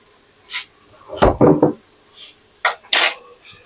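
Garlic going into a cooking pot, heard as a few close metallic scrapes and clinks of a utensil against cookware, in short separate bursts with quiet gaps between.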